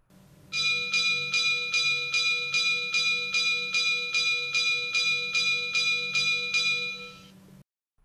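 Electronic bell sound of an ESU V60 H0 model shunting locomotive, about fifteen evenly spaced loud rings over roughly seven seconds above a low steady hum, then stopping abruptly.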